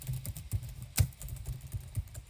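Keys tapped on a computer keyboard, a handful of soft irregular clicks with one sharper stroke, close and quiet with no voices.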